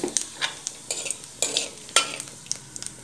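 Cumin and asafoetida sizzle in hot oil for dal fry. Repeated scraping and clinking of stirring cut through the crackle at close range in an uneven rhythm.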